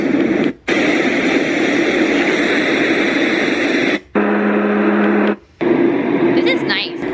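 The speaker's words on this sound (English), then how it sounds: "this button over here is like more of the white noise" A baby sound machine plays steady, loud white noise. The hiss cuts out briefly three times as its buttons switch between settings, and a lower hum sounds in one segment.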